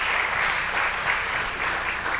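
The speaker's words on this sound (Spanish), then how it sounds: "Un aplauso nuevamente para Elga, por favor, como bienvenida" Brief burst of dense, loud audience applause at a panel session on promoting cultural industries, welcoming a panelist, a continuous even clapping texture with no voices.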